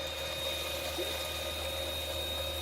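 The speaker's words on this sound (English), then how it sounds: "at this point we're just about done pumping" A Sanicon Turbo 600S macerator pump emptying a test tank of water on a Dutch Star motorhome, a steady unbroken whir and watery rush that holds level throughout without pause.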